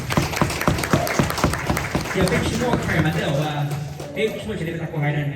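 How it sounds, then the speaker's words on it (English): Audience at a Hmong New Year appreciation banquet clapping loudly for an honoree, a dense burst of applause with a voice speaking over it as the clapping thins out. "We give her another round of applause"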